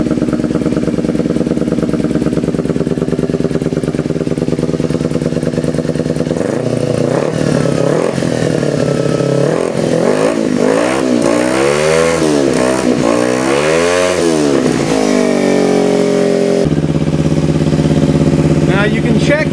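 Kawasaki Ninja 250 sport bike engine fired up after carburetor needle shimming, a steady loud idle with throttle blips rising and falling in pitch mid-way, settling back to an even idle.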